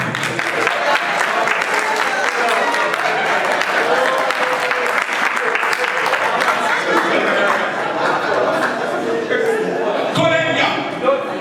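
An audience applauds continuously and loudly, with dense clapping close by, cheers and chatter mixed in throughout.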